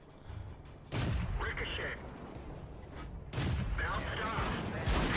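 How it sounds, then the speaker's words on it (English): Two heavy, booming tank gun shots from enemy tanks in World of Tanks, spaced a few seconds apart. Each blast hits loud and close and leaves a rumbling tail. "That was 2 shots from 2 enemies."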